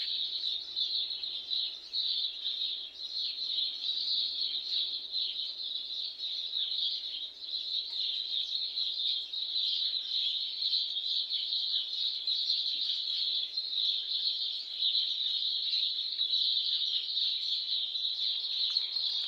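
Steady, high-pitched birdsong fills the air continuously, many small birds chirping together at moderate volume with no talking.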